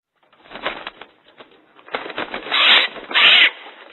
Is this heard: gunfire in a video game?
no